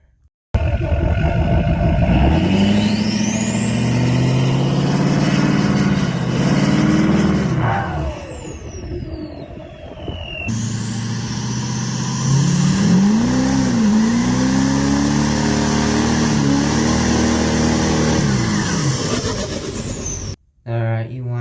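Turbo diesel truck engine revving hard with a deep roar and a rising, then falling turbo whine. It briefly drops away near the middle, then returns with fresh surging revs until an abrupt cut near the end.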